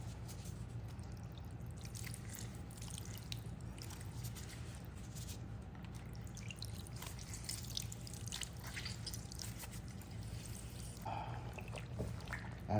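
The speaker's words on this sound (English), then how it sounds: "Now the orange juice." Orange juice pours into a marinade in a steady, soft, continuous liquid trickle with faint drips over a low background hum.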